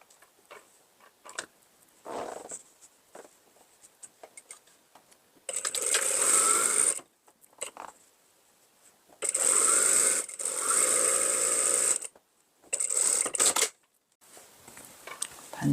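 A home sewing machine stitches a sleeve underarm seam in several loud, steady whirring runs of one to three seconds each, separated by quiet pauses with faint handling clicks.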